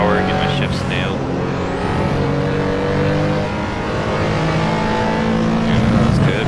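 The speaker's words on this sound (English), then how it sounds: "Matching all my downshifts just to make sure that I keep in the correct RPM range" A 1987 RUF CTR Yellowbird in the Assetto Corsa racing game, its engine loud and close, revving through downshifts with rising and falling tones while someone talks over it.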